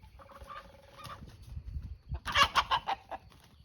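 Buff Orpington chickens burst into a brief flurry of loud, agitated clucking and squawks as one rooster chases another, after a quieter stretch of background clucks.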